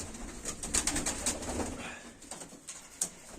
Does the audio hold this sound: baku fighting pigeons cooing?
yes